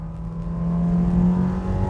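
A 2022 Subaru Forester with the 2.5 engine and automatic gearbox accelerates from a standstill toward 100 km/h uphill into a bend, its engine note rising steadily and droning from inside the cabin, with no talk.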